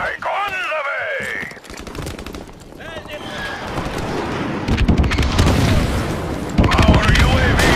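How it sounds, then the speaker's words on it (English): Friendly airstrike explosions boom in Call of Duty: Infinite Warfare multiplayer, heavy rumbling blasts building over several seconds amid gunfire, with radio voices over the action. "Friendly airstrike on the way."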